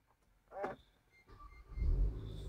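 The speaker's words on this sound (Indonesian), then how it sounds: "kita nyalain mobil ya nih kita pencet ini ya nih liatin ya" A 2012 Range Rover Evoque is started by push button: a brief whirring click, a pause, then the engine catches and settles into a low, steady rumble close by.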